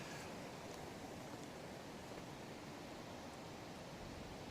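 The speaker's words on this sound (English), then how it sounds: "Well, it's getting windy." Strong gusting wind buffets the open bank of a carp lake, a loud, unbroken roar of broadband rumble with heavy low-end buffeting that stays constant and close throughout, with no voices.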